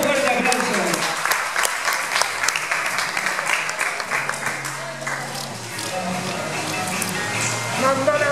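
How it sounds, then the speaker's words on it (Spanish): A crowd applauds at a breakdance battle semifinal, loud clapping that fades as music and voices take over underneath. "Un fuerte aplauso."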